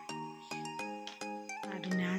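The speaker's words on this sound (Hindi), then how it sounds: "पापा का फोन आ गया।" A phone ringtone plays a bright, repeating chime melody of short tinkling notes, loud and close, indoors at home with a baby nearby.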